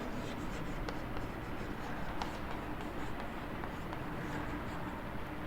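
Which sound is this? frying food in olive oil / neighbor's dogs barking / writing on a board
writing on a board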